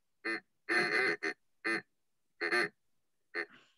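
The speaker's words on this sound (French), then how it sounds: "Ils sont bruyants en tout cas, tes canards." Loud, close, bright duck quacks in an online learning game, six separate calls, some doubled, with clear silent gaps between them.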